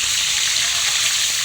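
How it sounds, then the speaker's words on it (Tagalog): Whole fatty fish frying in hot oil, a loud, steady, dense sizzle that fills the whole moment without pause, with no voices over it. "Pag malakas magputok ang mantika, matataba ang isda."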